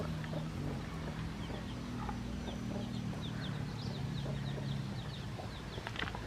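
Chickens and small chicks roaming freely in Pai, Thailand, cluck and cheep softly in a short, scattered series, heard at moderate distance over a low, steady engine-like hum.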